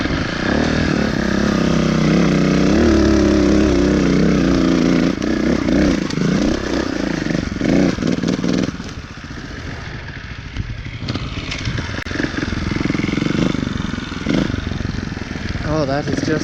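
A 2018 Beta Evo Factory 300 4T trials motorcycle engine runs close by, a loud steady thrum with wavering revs that drops to a quieter idle about halfway through.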